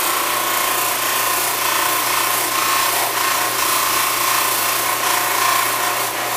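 A buffing wheel loaded with brown Triple E compound polishes a tobacco pipe with a loud, continuous whirring rub and a steady tone, with no voices over it.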